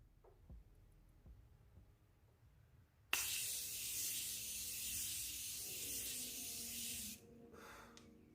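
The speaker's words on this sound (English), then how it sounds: "let me spray this" After a quiet moment, a spray bottle bursts into a single long mist spray close by, a continuous airy hiss lasting about four seconds before it cuts off.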